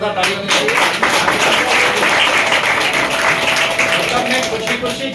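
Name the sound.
applause for the trainer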